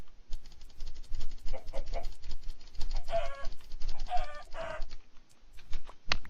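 Chicken in a Minecraft modpack game clucking repeatedly in short bursts over scattered pattering and clicking game sounds, with a sharp sound at the very end, close and clear, no voices.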